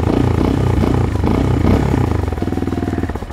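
A CFMoto Papio XO-1 Racer mini motorcycle engine revs with a deep, throbbing rumble, loud and close, rising and pulsing over a few seconds.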